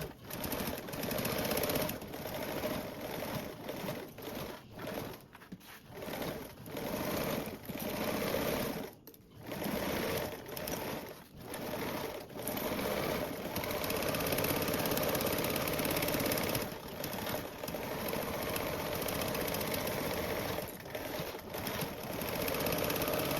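A sewing machine basting two fabric pieces together with a narrow 1/8 inch seam allowance, on the center panel of a Pandora Charisma bag, running in a steady whirring drone with a few brief pauses, close and loud throughout.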